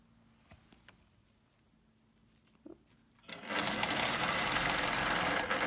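A sewing machine stitches fabric binding, starting abruptly after a few quiet seconds of faint ticks and a small click, then running in a loud, steady, continuous whir up close.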